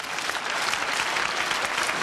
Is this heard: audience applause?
yes